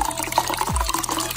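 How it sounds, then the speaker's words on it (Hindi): A cup of water is poured into a bowl for homemade pizza dough, a short close splash and gurgle of filling liquid. "ये देखिए एक कप वाटर"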